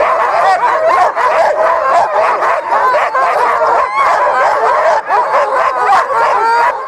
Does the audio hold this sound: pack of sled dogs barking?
yes